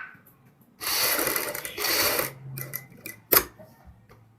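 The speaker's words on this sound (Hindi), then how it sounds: "तो इसमें हम बिल्कुल सीधे सिलाई लगानी है," A home sewing machine runs a straight seam along a neckline strip for a dress neck design, in two short loud bursts of whirring stitching with brief pauses and a faint click between.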